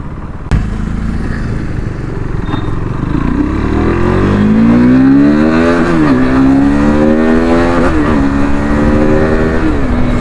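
A KTM RC 390 BS3 motorcycle revs hard during a tyre-smoking burnout, its engine rising in a long loud climb and then holding near the top in repeated surging pulls, close and dominant throughout.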